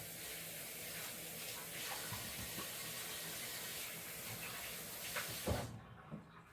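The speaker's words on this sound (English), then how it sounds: "now let me wash my hands" Kitchen tap water running steadily for hand washing, a soft continuous hiss and splash lasting several seconds before cutting off near the end, with a clunk or two as the tap shuts.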